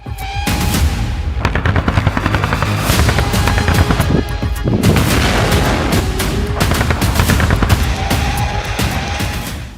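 Israeli tank fire and heavy bombardment in Gaza's Jabalia area: a dense, continuous barrage of loud booms and rapid gunfire bursts, close and relentless, with sharp cracks over a rumbling low roar and no speech.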